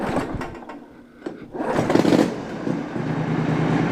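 Pulling the recoil rope on a Briggs & Stratton Intek V-twin engine gives rattling clanks. The engine then catches and settles into a steady, close running drone.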